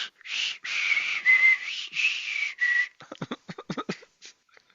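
A person whistles a sitcom theme song in long, wavering sustained notes, then breaks off into short, choppy bursts near the end, as if unable to keep the melody going.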